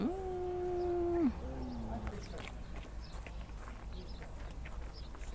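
A cat meows once with a long, steady cry that drops at the end, then a softer second call. Faint outdoor rustling follows.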